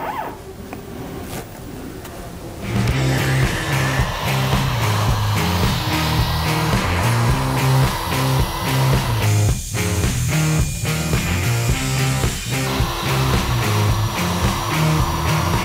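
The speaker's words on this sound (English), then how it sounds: "Then start the router and watch it go." Freud CNC router with a 1/8-inch straight bit cutting a blank: a quiet whir at first, then a loud steady whining spindle and cutting noise with rhythmic pitch shifts as the bit moves through the material.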